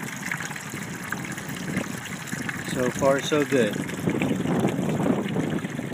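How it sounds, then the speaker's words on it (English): Water swirls and drains down through an off-grid test vortex fed by a low water stream, making a steady trickling gush with some splashing. Someone talks over it. "So when the water goes in, it spins around and drops down."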